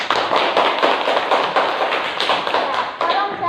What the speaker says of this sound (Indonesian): tepuk tangan untuk Alisa